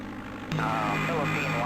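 Propeller aircraft engine in the DOS game Flight Simulator 5.1, a steady droning hum that steps up abruptly partway through and then holds a constant tone.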